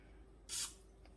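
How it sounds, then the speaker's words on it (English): A single short hiss of butter spray bursts onto a hot waffle maker, loud and breathy for a fraction of a second against a faint background hum. "I'm going to spray a little onto the pan before I start."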